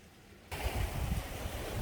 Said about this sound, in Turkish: Ve denizin sesini duyuyorsunuz.